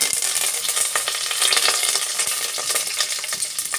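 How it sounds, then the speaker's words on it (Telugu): Mustard seeds, cumin, dried chillies and curry leaves crackle and sizzle loudly in hot oil, a dense continuous frying hiss with rapid little pops and stirring, up close with no talk. "నూనె వేడైందండి. దీనిలోనే కొంచెం ఆవాలు, జీలకర్ర వేస్తున్నాను. అలాగే ఎండుమిరపకాయలు, కరివేపాకు"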